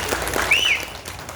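Brief burst of applause from a seated crowd at a public gathering in honour of Babasaheb Ambedkar, dense clapping over a tonal whistle-like sweep, lasting about a second.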